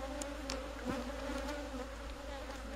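Swarm of African honeybees buzzing steadily and up close during a transfer from a catcher box into a Kenya top bar hive in Kenya, a continuous low drone with no talking.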